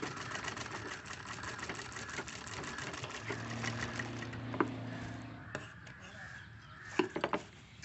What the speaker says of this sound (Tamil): அது அந்த மார்க் மேலேயே வந்து இப்படி வச்சு தையல் போட்டு வந்துடுங்க.